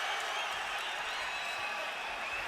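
A boxing arena crowd roars and applauds in a dense, steady ovation that fills the space, with faint commentary beneath it.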